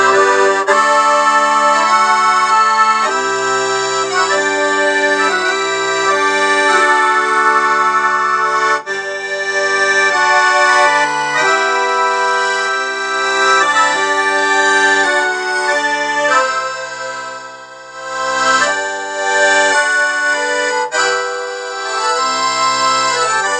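A Roland digital accordion set to a full, slightly aggressive ballroom tone plays a lively melody with sustained chords, loud and close with no talking, dipping briefly near the end.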